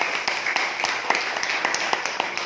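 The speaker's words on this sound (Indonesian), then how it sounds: "Oke, tepuk tangan sekali lagi." A seminar audience in a hall claps together, a dense steady patter of hand claps lasting a few seconds, fairly loud and close with no speech over it.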